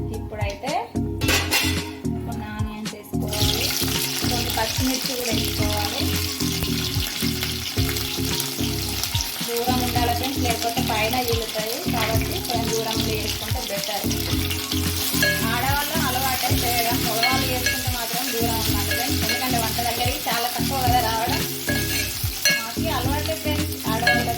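Whole spices crackling in hot oil for a Telangana-style toddy chicken curry, a loud dense sizzle running throughout with occasional pan and utensil clinks, the sound persisting alongside possible faint voices.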